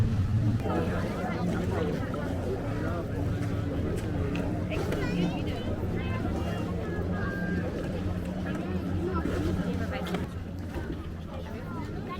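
A boat passes on a river in Berlin, its steady engine rumble blending with water noise and a crowd murmuring along the bank throughout.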